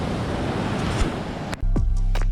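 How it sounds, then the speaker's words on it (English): Ocean waves crash on Robertsport Beach in Liberia, near a shipwreck, as a loud, steady broadband roar of surf. After a brief cut, it gives way to a low rumbling hum. "look at the waves crashing in"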